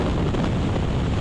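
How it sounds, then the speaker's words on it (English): Strong wind buffeting the microphone in a continuous, loud, roaring rush that fills the whole brief moment, with no voices. "Oh yeah, wind's hitting hard now."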